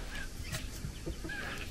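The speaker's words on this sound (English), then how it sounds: "Look, and you can hear the birds." Birds call outdoors on a still summer evening by a shore under the midnight sun: two or three short, fairly faint calls spaced apart over soft ambient noise, with no talking.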